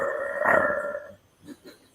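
A person imitates a wolf with a sustained, wavering howl that lasts about a second, followed by two short, softer vocal yelps, close and clear.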